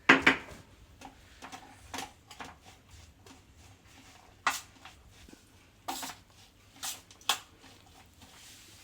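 Ingredients with black pepper and salt being mixed in a bowl for paratha filling, heard as scattered soft clinks and taps of utensil against dish, some sharp and close, with quiet gaps between.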